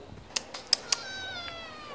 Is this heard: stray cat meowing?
yes